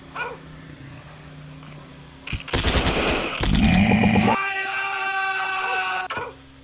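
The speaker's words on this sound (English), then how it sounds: "Suppressor fire on target!" Gunfire in the mobile game Commando Strike, a dense burst of rapid shots that swells to a loud sustained stretch mixed with game music and effects, then cuts off abruptly.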